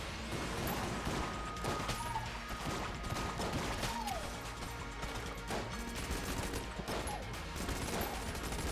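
Gunfire in the video game Enter the Gungeon, with shots that bounce: dense, continuous bursts of small shots and impacts mixed with mechanical clatter and a steady game soundtrack, fairly loud and busy throughout.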